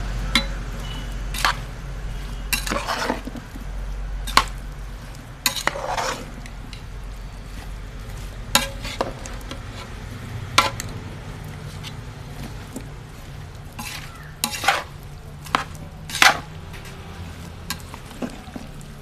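Mango pickle ingredients being mixed together make scattered scrapes and clicks at irregular intervals over a low, steady background hum, with no one talking.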